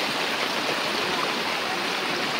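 A swollen river near a village flows steadily, a dense, continuous rush of water heard close and loud with no voices over it.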